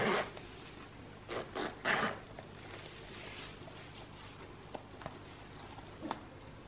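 A zip on a Filofax Saffiano Zip Compact organiser being pulled open in a few short, close rasping strokes, followed by quieter handling and faint clicks.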